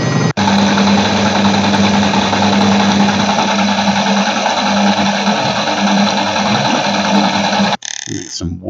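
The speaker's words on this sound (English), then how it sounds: "Very industrial machine sounding." Washing machine drone with an industrial character, a loud, continuous rumbling hum with a steady low tone that stops abruptly near the end, followed by brief clunks.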